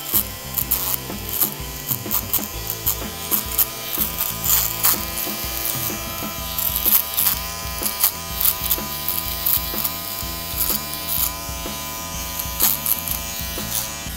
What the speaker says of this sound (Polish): To najpierw robię sobie same tutaj boki golarką.